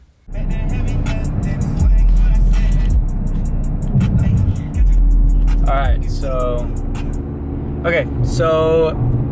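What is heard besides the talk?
car exhaust during test drive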